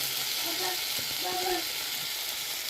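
Recharge masala frying in a pan in a Goan home kitchen, a steady broadband sizzle with faint stirring scrapes and a low voice murmuring underneath.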